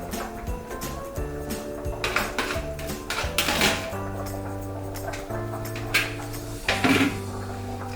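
Garlic and spinach tossed into a metal pan for spaghetti with spinach, giving scattered clinks and clatters of utensils against cookware with short bursts of rustling, close and moderately loud, with no talking.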